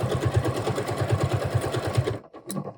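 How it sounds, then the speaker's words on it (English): Sewing machine stitching the waistband of a linen skirt, a steady rapid mechanical chatter running close for about two seconds before stopping abruptly, followed by a faint click. "So you're sewing the right part of the waistband,"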